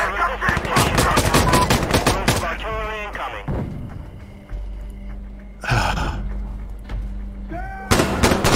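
Artillery and gunfire in a night-time video game battle, a loud, rapid burst of shots followed by scattered heavy blasts and short bursts, with a voice gasping in between.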